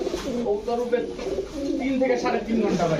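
Rajshahi pigeons cooing nearby in soft repeated low coos, with people talking close by.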